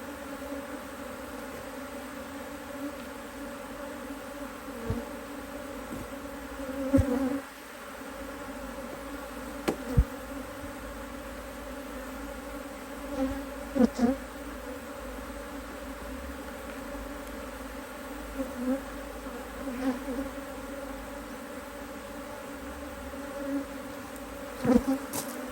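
Honeybees hum steadily around an open hive during a frame inspection, a continuous close drone with occasional louder individual buzzes passing near, and no talking.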